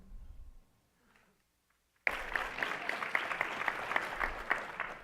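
An audience at a club forum breaks into sustained applause after a brief quiet pause, dense clapping filling the room loudly and steadily to the end.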